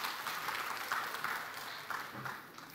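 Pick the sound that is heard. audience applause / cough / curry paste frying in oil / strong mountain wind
audience applause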